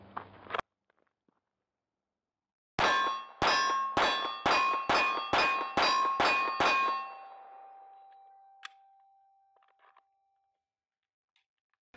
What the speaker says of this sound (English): I'm here at the range, so let's go ahead and fire some rounds